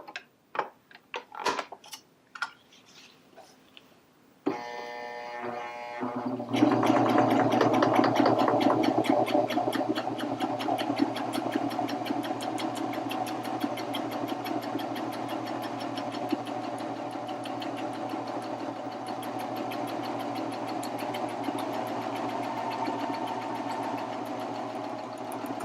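A Baby Lock Vibrant serger stitches a decorative picot edge on delicate fabric: a few clicks and a brief whir as it is set up, then a steady, rapid mechanical chatter of the running machine that holds at an even level.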